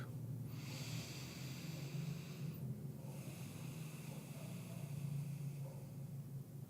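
Quiet, slow breathing through the nose, one long soft inhale and exhale after another under faint background hiss.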